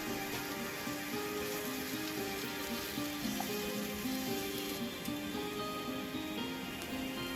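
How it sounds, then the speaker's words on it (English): Lotus root fries gently in hot oil in a pan, giving a steady, even sizzle with fine crackling throughout and no voices. "Then gently fry the lotus root until translucent."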